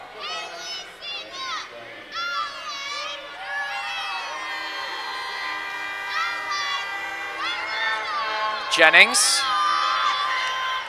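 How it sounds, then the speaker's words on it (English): A basketball arena crowd cheers and roars loudly and continuously during a free throw, with whoops rising near the end, under a commentator's steady talk. "with the crowd as loud as it's been all season"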